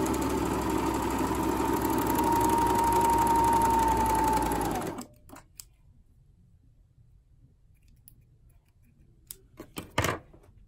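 A sewing machine stitches fabric fast and steady for several seconds with a whirring hum, then stops; a few faint clicks and taps follow in quiet.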